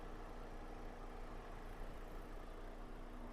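A 2011 Opel Zafira B engine idles steadily and smoothly, a constant low mechanical hum with no revving, close by.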